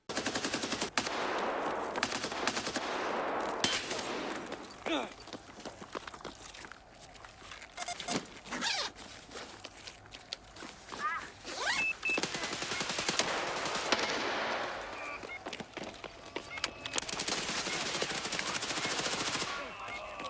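Rapid bursts of automatic gunfire crackle in an Escape from Tarkov Arena match, with shots coming from several directions and distances. Footsteps and rustling gear move in between the volleys, and the firing comes in dense clusters with short pauses.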